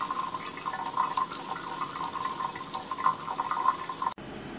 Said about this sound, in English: now the valve is working and draining the water